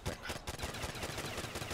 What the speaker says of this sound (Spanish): Hostia, esos disparos se escuchan en todo el mapa, ¿eh?